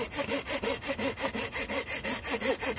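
A Flora Guard hand saw cuts through wood at a lean-to build, with steady back-and-forth rasping strokes, about four per second, loud and close, with a voice briefly heard speaking.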